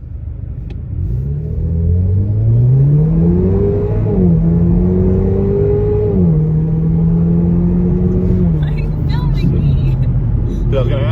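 An upgraded turbocharged Camaro engine revs up and holds steady several times, with a loud, deep grumble whose pitch steps up and down between revs, turbo whooshes, and faint voices near the end.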